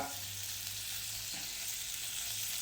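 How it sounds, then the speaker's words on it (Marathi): Chicken pieces frying in a pan for restaurant-style butter chicken, a steady soft sizzle with a low hum running underneath, constant and fairly quiet with no voices. "या पद्धतीनं ह्याच्यात भाजणार आहोत या पद्धतीने आपण सगळे चिकनचे पीसेस"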